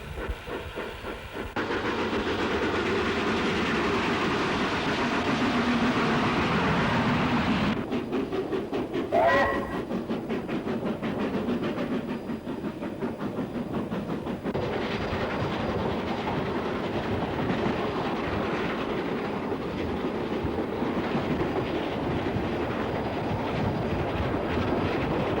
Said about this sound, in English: Leaving Greymouth, our express hauled by J1232 heads towards Jackson's to Otira.